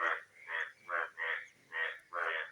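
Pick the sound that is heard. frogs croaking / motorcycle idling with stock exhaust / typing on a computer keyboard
frogs croaking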